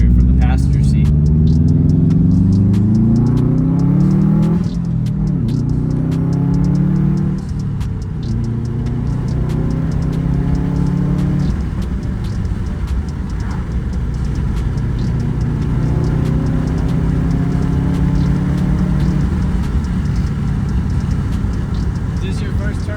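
A Subaru WRX STI turbo car driving, engine droning and repeatedly rising in pitch through the gears with a low rumble, heard from inside the cabin while people talk over it.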